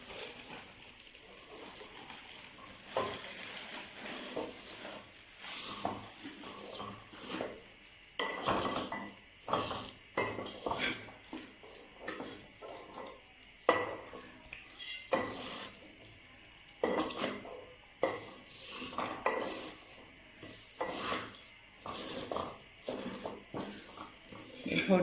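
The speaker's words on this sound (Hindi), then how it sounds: "थोड़ी देर सेवइयों को भून लूँगी देसी घी में।" Vermicelli roasts in desi ghee in a pan, a soft sizzle broken by frequent scraping and clinking as it is stirred, close up and uneven in rhythm.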